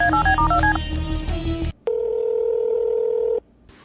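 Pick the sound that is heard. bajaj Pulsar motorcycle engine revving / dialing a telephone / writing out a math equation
dialing a telephone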